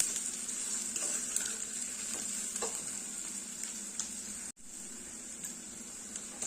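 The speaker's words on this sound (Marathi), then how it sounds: "तो आलं लसूण देखील इथे छान असं परतून झालेलं आहे" Ginger and garlic sauté in oil in a pan while cooking a cluster bean and potato dish, a steady loud sizzle with light scraping of stirring and a brief dropout partway through, no voices.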